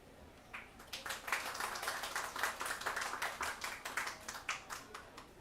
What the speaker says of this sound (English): Let us welcome him with a warm round of applause.